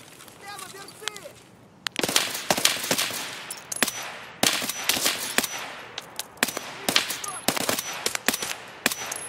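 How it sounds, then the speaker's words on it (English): Gunfire in Escape From Tarkov, with loud, sharp shots crackling in rapid bursts and scattered single cracks, some near and some farther off, while voices talk intermittently. "How many fucking times did I shoot him in the face?"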